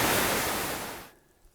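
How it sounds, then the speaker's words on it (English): A cascading river rapid rushes as a dense, loud wash of white water close by, then cuts off abruptly, leaving near silence. "Gorgeous cascading rapid."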